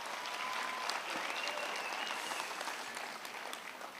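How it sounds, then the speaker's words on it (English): Graduating students and guests at a university graduation ceremony break into steady applause, a broad wash of many hands clapping at moderate distance, with faint voices and a brief whistle-like tone over it. "give yourself a massive round of applause"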